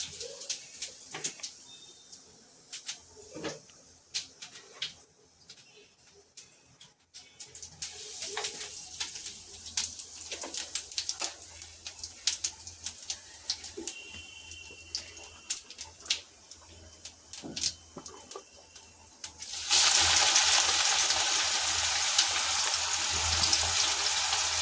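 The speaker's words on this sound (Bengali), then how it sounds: "জিরে ফোড়ন দিয়ে" Cumin seeds hit hot oil for tempering, setting off a sudden loud, steady sizzle near the end, after a stretch of quiet scattered kitchen clinks and taps.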